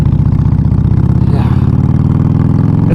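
A 2013 Harley-Davidson Forty Eight motorcycle engine rumbles close and loud with a steady, deep, pulsing V-twin beat, holding an even throb throughout without any voices.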